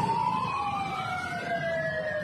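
Fire truck sirens wail continuously at a fire in Las Piñas City, Philippines, with two rising and falling tones overlapping against steady street traffic noise, moderately loud and sustained with no talking.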